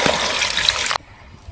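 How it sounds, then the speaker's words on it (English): Water is poured into a pot of potatoes sitting over a fire, a steady splashing gush for about a second that then stops abruptly. "And then I'll add water to slightly cover my potatoes."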